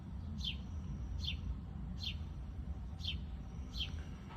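A small bird repeats a thin, high chirp about every three-quarters of a second, five calls over a steady low background rumble, faint and somewhat distant.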